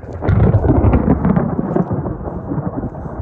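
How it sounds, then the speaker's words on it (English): A loud, close roll of thunder from a storm overhead on a hike near Bear Butte rumbles deep and heavy for about three seconds, strongest at the start and slowly fading, with no speech. "That, my friends, is lightning and thunder."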